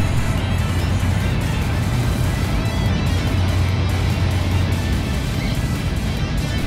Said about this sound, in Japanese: 新幹線は山あいの景色を横目に進んでいきます。